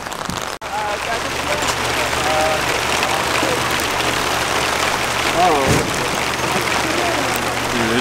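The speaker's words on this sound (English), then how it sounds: "it's raining so hard" Heavy rain pours steadily at an outdoor flea market, a dense continuous hiss with a low engine-like hum underneath, while people's voices break through the downpour.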